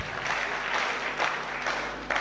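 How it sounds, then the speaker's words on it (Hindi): An audience claps through the whole stretch, a steady, dense patter of many hands at a live gathering, with no talk over it. "आप ताली क्यों बजा रहे हैं?"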